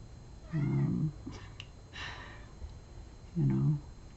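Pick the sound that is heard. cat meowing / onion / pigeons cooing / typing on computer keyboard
cat meowing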